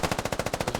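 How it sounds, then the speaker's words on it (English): Gunfire in a military shooter game: a rapid, even burst of automatic fire with about eleven sharp, close, loud shots in quick succession. "Most of this gunfire has just been sporadic, just suppression."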